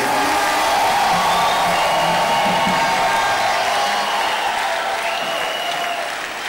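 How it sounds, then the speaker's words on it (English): A Pentecostal church congregation at a Wednesday fellowship night in Akwa Ibom State gives a loud, sustained round of clapping in praise, with a few faint whoops mixed into the dense applause. "Let's give a resounding Pentecostal African clap of praise unto the Lord."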